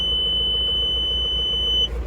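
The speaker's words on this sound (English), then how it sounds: "that's the beep sound it continuously keeps making" Reverse parking sensor beeping as a steady high tone on a Mahindra Bolero City Pick-Up in reverse, over a low idling engine hum, the tone cutting off near the end.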